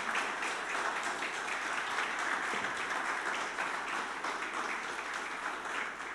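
Church congregation applauding during a Spanish-language sermon, a steady, dense wash of clapping from many hands that holds evenly throughout, heard from a distance and moderately quiet, with no talk over it.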